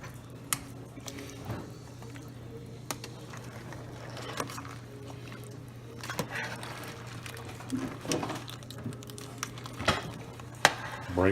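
Crab is stirred into a pot of shrimp and crab gumbo, with soft scraping, wet squishes and occasional spoon clinks against the pot over a steady low hum.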